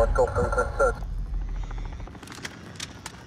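Helicopter in the video game Call of Duty: Modern Warfare (2019), a low rotor drone running under game voices at first and then continuing alone with scattered sharp sounds.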